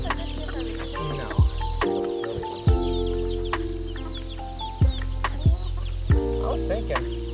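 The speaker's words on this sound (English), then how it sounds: "Got your chicks here." Chickens and young chicks on a farm during morning chores cluck and chatter close by, with repeated sharp clucks and soft peeping scattered over a low background hum.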